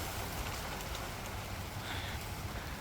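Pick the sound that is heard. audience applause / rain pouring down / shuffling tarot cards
rain pouring down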